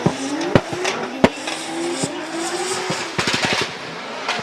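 Drift cars at a Formula Drift Japan event, engines droning and rising in pitch as tires squeal through the corner, with sharp pops and stuttering bursts over a steady crowd-and-track roar heard from a distance.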